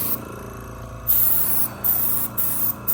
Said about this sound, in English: that's what's great about an airbrush